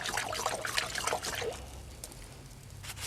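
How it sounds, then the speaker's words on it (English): An old fan brush is swished and rinsed in a container of liquid, giving a close, continuous wet trickling and sloshing with a few splashy bursts that ease into a quieter drip and swirl. "I'm going to wash that old fan brush."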